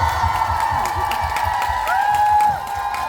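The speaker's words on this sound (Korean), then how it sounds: "여러분 박수 주세요." A cinema audience at a concert-film stage greeting applauds and cheers, giving steady clapping and crowd noise with a few whoops, while a drawn-out shout rises briefly near the end.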